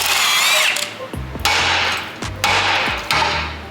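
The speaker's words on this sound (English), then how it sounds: "So we've got to crack the lock nut off" Loud metallic clanks and ringing taps of a wrench cracking off the track rod end lock nut on a Honda Civic Type R, a few sharp hits separated by brief pauses, close up.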